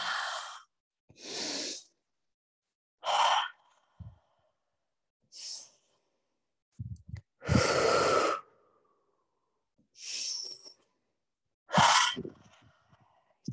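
Slow deep breaths during a yoga forward fold: a series of long airy inhales and exhales, close and fairly loud, separated by silent pauses, with no talk.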